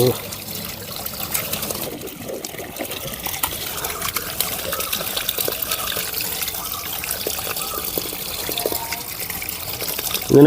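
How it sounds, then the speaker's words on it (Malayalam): Backwash water flows steadily out of a home water filter, a continuous splashing trickle and pour that runs throughout the clip at moderate level, with a voice talking over it. "ക്ലീനായിട്ട് ഇങ്ങനെ വരും വെള്ളം കുറെ കഴിഞ്ഞാൽ ഇങ്ങനെ ക്ലീനായി വരും അപ്പോൾ ബാക്ക് വാഷ് ഏകദേശം കഴിഞ്ഞ്"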